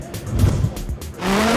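Rallycross cars launch off the start line at the 2018 World Rallycross of South Africa, engines roaring close by with bursts of tire squeal and a rising engine note as they pull away.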